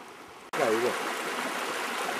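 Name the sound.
rushing stream water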